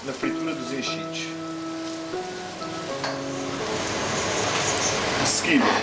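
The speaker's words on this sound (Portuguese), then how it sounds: "Refogo a cebola e o alho na fritura dos enchidos." Onion and garlic sauté in the fat left from frying cured sausages with a steady crackle and sizzle that builds louder toward the end, faint music underneath.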